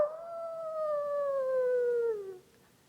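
A human voice imitates a dog moaning for its master, one long sustained howl-like tone gliding slowly downward and fading out, heard close and alone.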